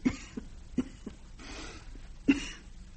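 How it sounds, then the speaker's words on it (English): A woman coughs in a quiet interior scene of a period drama, several short dry bursts spaced irregularly with one sharper, louder cough near the end, close and otherwise fairly hushed. "No, just a cough."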